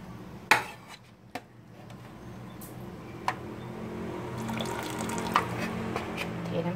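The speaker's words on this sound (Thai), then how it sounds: "เทน้ำแกงคืน" Soup broth for a Thai chicken dish poured back into a pot: a few sharp clinks of metal cookware, then a soft, building trickle and splash of liquid, fairly quiet, with no voices.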